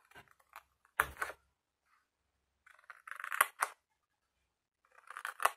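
Scissors cut straight through paper in three short bursts of crisp snipping and rustling, close and fairly quiet, separated by near silence.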